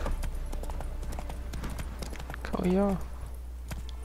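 Roach the horse galloping in The Witcher 3: Wild Hunt, Hearts of Stone, steady rhythmic hoofbeats clopping close and clear, with a brief whinny-like tonal call in the middle and a voice speaking over the hooves.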